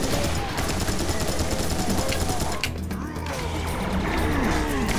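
Gunfire from a hectic shooter video game, rapid overlapping bursts and impacts crackling continuously at fairly close range, with players' voices talking in the mix.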